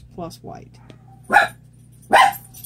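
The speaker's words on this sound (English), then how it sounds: "I'm so sorry about the dog barking." A dog barks indoors during an acrylic pour painting session, two or three quick sharp barks up close before a person starts talking.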